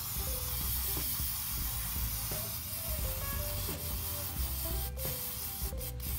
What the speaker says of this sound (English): Make sure you shake your Mod Podge for a minute before you go ahead and hit it with that final coat.